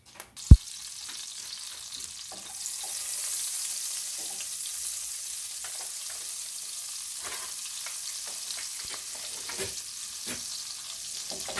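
A tablespoon of butter sizzles in olive oil in a pan, with a sharp clink at the start and then a steady, bright frying hiss that swells and holds close and alone.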